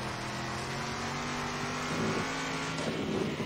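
A stock car engine in the racing video game Circuit Superstars drones steadily, holding a constant tonal hum that rises slightly and grows busier toward the end, with no speech.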